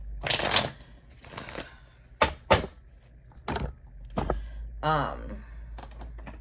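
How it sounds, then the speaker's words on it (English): Cards riffle and slap in quick bursts, several short crisp shuffles close up, with a person speaking briefly near the end. "I'm gonna go ahead and shuffle."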